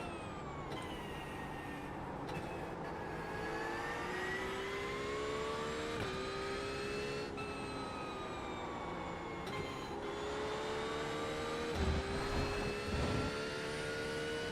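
Race car engine in iRacing on a push lap, a steady loud whine whose harmonics climb and drop through upshifts and braking, continuous throughout with brief dips near corners.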